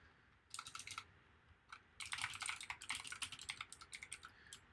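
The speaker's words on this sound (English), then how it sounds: "typing and speaking at the same time, not easy." Quick bursts of typing on a computer keyboard, crisp key clicks in uneven flurries with short pauses, close and alone.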